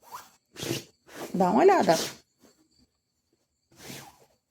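A zipper is drawn shut on a handmade fabric cover for a crib headboard, giving a close, rasping pull of about a second, with someone speaking briefly before and after it.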